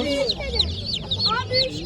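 Plymouth roosters and other chickens at a busy poultry market in Kırıkkale cluck and squawk in quick overlapping calls up close, over a low crowd murmur.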